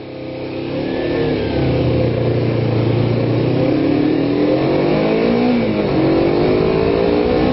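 A Kawasaki Ninja 250 motorcycle engine runs steadily at a fast idle of about 4,000 RPM after a cold start, a continuous loud drone with slight wavering pitch and no talking.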